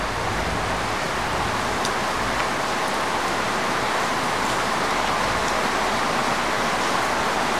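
Heavy rain pouring outside a building at night, a dense constant wash of noise that stays even and loud throughout with no voices.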